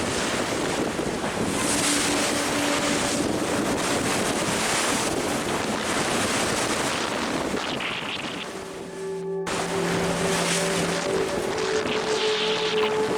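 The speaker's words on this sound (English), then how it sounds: "One thing that WildChild does very well is sail towards the wind." A sailboat beats upwind toward Luperon, wind roaring steadily across the microphone with waves rushing and slapping against the hull, loud and constant, broken by one brief dip.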